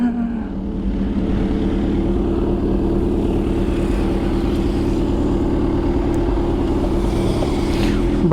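A quiet Kawasaki 650 sport touring motorcycle runs on a cold road, its low, steady engine hum and road rumble holding constant throughout with no talk over it.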